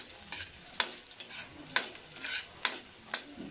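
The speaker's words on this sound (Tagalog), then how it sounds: "Gisahin ng mabuti yung garlic natin" Garlic sautés in a pan for kangkong with bagoong, making a soft, continuous sizzle broken by regular scraping strokes of a spatula stirring, about one every second.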